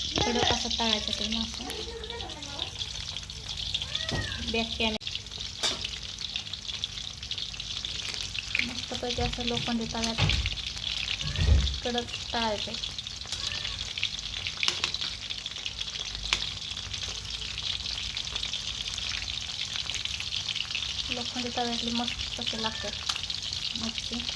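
Spiced fish coated in masala and cornflour fries on an iron griddle, a steady, close sizzle running throughout, with occasional scraping and clatter and a person talking intermittently over it.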